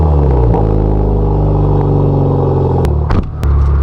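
A Hyundai Elantra N fitted with a carbon fiber hood drives along, its engine a steady, loud drone throughout with a brief dip near the end.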